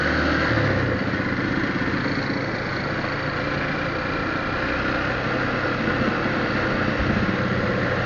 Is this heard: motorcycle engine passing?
yes